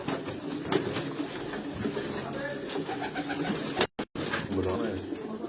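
Banded pigeons from a flying-pigeon loft coo softly and repeatedly close by, with voices talking over and around the birds.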